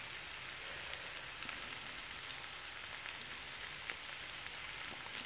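Onions fry in a pan under a thin sprinkled layer of sugar, giving a soft, even sizzle that crackles steadily throughout with no voices.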